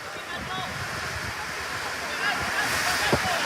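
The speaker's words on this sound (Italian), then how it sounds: "Una pioggia incredibile, quasi a rischio sospensione in questo momento." Heavy rain pours down during a Serie C1 Sicilia futsal match between Merlo and Athletic Club Palermo, a dense steady roar of water that swells slightly toward the end.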